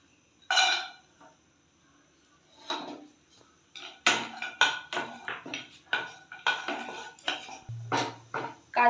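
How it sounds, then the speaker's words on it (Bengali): Cashews fry in two spoons of hot ghee in a kadai and are stirred with a metal spoon, giving sharp scraping and clinking strokes that start sparse and then come in a quick, uneven run. "কাজু বাদাম অল্প নাড়াচাড়া হয়ে গেছে, খুব বেশি লাল লাল করে ভাজছি না।"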